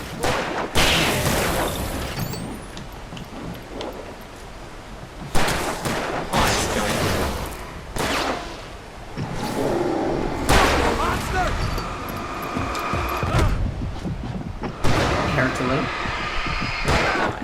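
Gunshots ring out in Alan Wake Remastered, a series of sharp, loud bursts spaced every second or two over a steady rushing background, with someone talking between shots.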